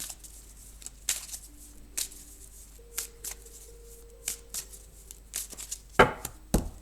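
A deck of oracle cards is cut and shuffled up close, with a string of sharp riffles, taps and slaps spread unevenly across the stretch and a louder flurry near the end, with no talking.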